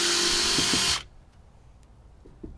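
A power screwdriver whines loudly for about a second as it backs screws out of a server switch, then cuts off, leaving faint handling clicks and taps.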